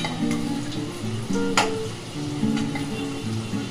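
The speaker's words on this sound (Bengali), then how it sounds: "আলুগুলো আমার লাল লাল করে ভাজা হয়ে গেছে" Potatoes frying in hot oil for Bengali mutton kosha, a steady close sizzle with occasional stirring and a brief scrape of a utensil against the pan.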